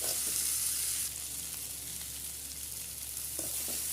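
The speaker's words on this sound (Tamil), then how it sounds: "இப்போ காய் ஓரளவுக்கு நல்லா எண்ணெயில் வதங்கி வந்துடுச்சு" Small vegetables sauté in hot oil for a kuzhambu, giving a steady, close sizzle with faint stirring clicks near the end; no one speaks.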